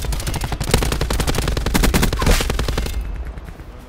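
Rapid automatic gunfire in the Black Ops 4 video game, a loud, close, steady burst of evenly spaced shots lasting about three seconds before cutting off, with no talking.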